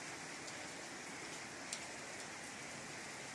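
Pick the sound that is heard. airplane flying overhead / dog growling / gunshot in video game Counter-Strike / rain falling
rain falling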